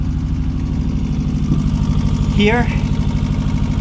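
Marex Flexi boat engine running steadily at idle, a low droning hum that continues throughout, with a short rising whistle-like sweep near the middle and one brief spoken word over it.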